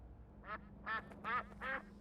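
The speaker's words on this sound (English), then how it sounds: "The ducks are back." Four loud, separate duck quacks spaced about every half second over a low steady hum, with no talking.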